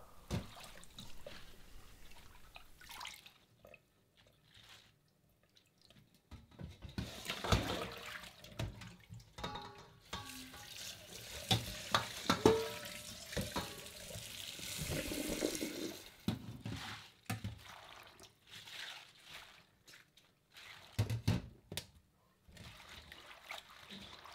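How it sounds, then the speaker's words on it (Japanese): Spinach leaves being washed in a sink, water running and splashing in irregular bursts with brief pauses, close and moderately loud, for an oyster Florentine dish. "この後よく水で洗います"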